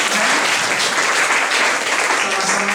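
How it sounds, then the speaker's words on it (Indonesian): Loud, sustained applause from a church congregation at a worship service, dense steady clapping filling the whole stretch without a break. "Saya diberikan tepuk tangan yang meriah."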